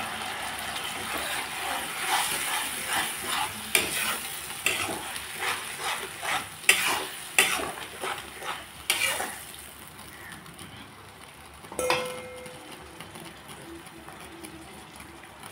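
Onions frying with spice paste in a pan while a fish curry is cooked: steady sizzling with repeated scraping stirs, loud at first, then easing into a softer sizzle with a sharp clatter near the end.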